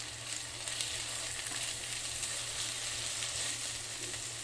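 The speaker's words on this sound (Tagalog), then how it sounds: "Now let's add our carrots and the beans." Carrots and beans stir-frying for pancit canton, an even, close sizzle with faint stirring movement, steady throughout with no voices.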